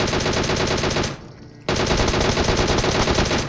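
DP light machine gun in PUBG firing two long, loud sustained bursts of rapid shots, close up, separated by a brief half-second pause.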